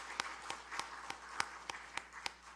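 Faint, sparse applause from a church congregation at a Wednesday prayer service, with a handful of distinct claps spread out at a slow, uneven pace across a quiet room.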